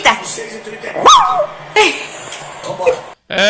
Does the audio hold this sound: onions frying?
no